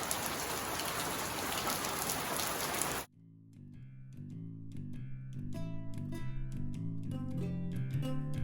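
Heavy rain pours in a dense, loud hiss, then cuts off abruptly and gives way to music for the remainder.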